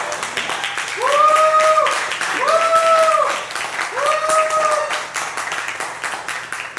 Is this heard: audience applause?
yes